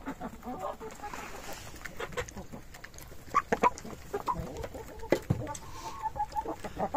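Chickens cluck in a Belarusian village yard, with short clustered calls and scattered hen chatter at moderate distance and low volume, without anyone talking.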